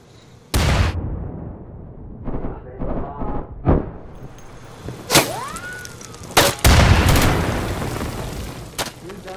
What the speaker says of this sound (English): I'm using a grenade!